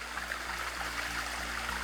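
A river stream flowing through a forest, a steady broadband rush of water running continuously, with a faint low hum pulsing underneath.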